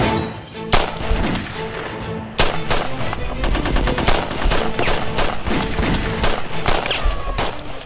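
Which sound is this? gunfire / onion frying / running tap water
gunfire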